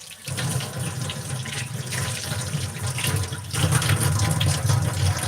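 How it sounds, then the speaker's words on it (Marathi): Hands are washed under a running kitchen tap, a steady, close splashing rush of water that continues throughout with small shifts in intensity. "हात धुवून घेते"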